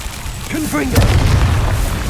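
A Confringo spell fired in Hogwarts Legacy lands with a deep booming explosion and rumbling tail right after a spoken incantation, loud and close in the game.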